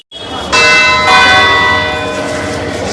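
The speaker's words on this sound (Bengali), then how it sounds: "আর যখন পুরো ঘন্টার সময় হবে 4 বার ওরা মেরে দেবে, তারপরে বড় ঘন্টাটা 4 বার মারবে।" The big bell of Bandel Church strikes the hour, a loud, close, ringing tone that swells after a second strike and decays slowly with long shimmering overtones, with no voices over it.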